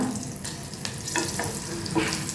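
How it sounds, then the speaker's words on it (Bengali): Slit green chilies fry over moderate heat in a pan, making a soft continuous sizzle with a few brief crackles and spits scattered across the short stretch. "কাঁচা লঙ্কাটা ভাজা হলে"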